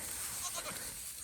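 Goat bleating near a hay feeder outdoors, a short, faint bleat heard against breezy background noise.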